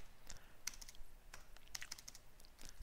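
A command being typed on a computer keyboard: quiet, quick clicking keystrokes in an uneven patter, faint and close, with no talk.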